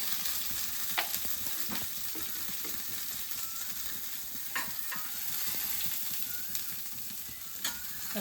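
Okra frying in hot oil in a pan while being stirred, a constant soft sizzle with occasional light scraping clicks of the spoon, close and fairly quiet.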